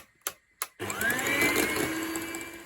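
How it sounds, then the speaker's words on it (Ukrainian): An electric hand mixer whips egg whites with pumpkin puree for a pumpkin marshmallow, starting after a few short knocks and then running as a steady, loud whir with a rising whine until the end. "Поки заварюється сироп, я ще продовжу збивати з білок з пюрешкою."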